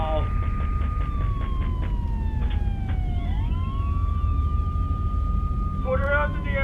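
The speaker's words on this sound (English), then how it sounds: "Do I hear sirens?" Video game police sirens wail and sweep up and down in pitch over a rumbling engine, loud and continuous, with brief voices breaking in.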